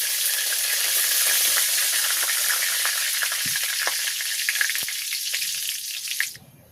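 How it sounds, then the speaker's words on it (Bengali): Two bay leaves frying in mustard oil in a wok give a steady, fairly loud sizzle with scattered crackles and a couple of soft knocks, then the sound drops away near the end. "আমি এখন কড়াইতে আর একটু তেল দিয়ে দিচ্ছি, সরিষার তেল। দিয়ে দেবো 2টা তেজপাতা।"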